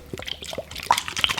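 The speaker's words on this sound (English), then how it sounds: "Now you need to put the activator in, don't we?" Slime activator liquid pours and drips into multicolour slime, close up, a quick run of small wet splats and trickles.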